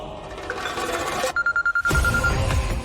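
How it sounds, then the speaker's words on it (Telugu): A telephone rings in a drama scene as a short run of rapid electronic chirps that cuts through a busy background, then fades into ambient noise. "సార్ ఫోన్ చేస్తున్నారు"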